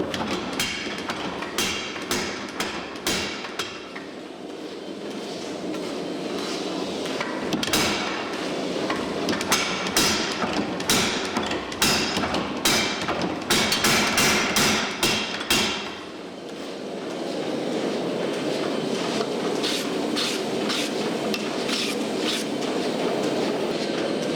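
A power hammer forges a dragon tongue Damascus steel billet, upsetting the layers to weld them. Bursts of rapid, loud, rhythmic metallic blows give way to a steady roaring hum from the forge.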